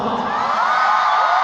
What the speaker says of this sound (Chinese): 给他们最大的尖叫声，好不好